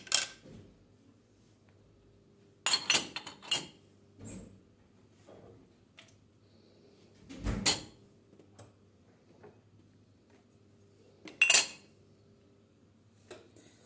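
Wooden spoons being washed and put away in a home kitchen, giving scattered clacks and clinks at irregular intervals, fairly close and fairly quiet, separated by stretches of near silence.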